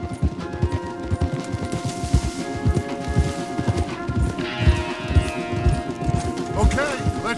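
Horses' hooves clip-clop steadily in Red Dead Redemption 2, a continuous rhythmic clatter of several riders on a trail mixed under conversation, with a brief whinny near the end.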